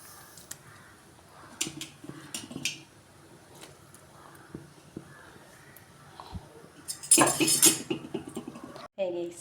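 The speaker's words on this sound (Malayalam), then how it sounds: "കഴുകി വൃത്തിയാക്കി വെച്ചിരിക്കുന്ന മീനിടാം" Small cleaned fish are added to a pot of red chili fish curry. Soft clinks of utensils and pot handling come first, then a louder wet clatter and splash near the end, with quiet talk in the background.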